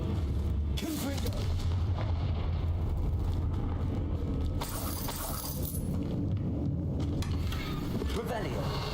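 Repeated Confringo fire blast spells cast in Hogwarts Legacy, loud booming bursts with crackling debris over a dense continuous game soundscape, while a voice speaks the spell names.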